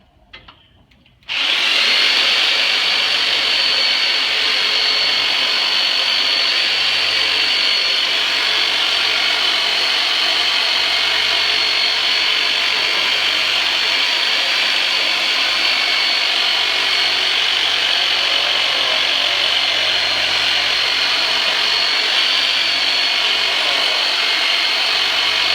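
A chiropractic turbinator device starts abruptly and runs as a loud, steady high-pitched whir for the rest of the span, close and unbroken, with no talking.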